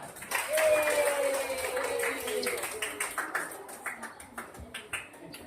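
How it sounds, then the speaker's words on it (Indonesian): Classroom applause from students, a burst of hand clapping that starts loud and thins into scattered claps, with a voice talking over it. "Tepuk tangan."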